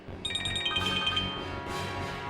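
A short electronic ringtone plays a quick sequence of bright chiming notes, moderately quiet, over soft background music.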